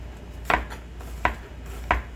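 A knife chops a vegetable into julienne strips on a board. Three separate sharp, close chops land about two-thirds of a second apart over a quiet background.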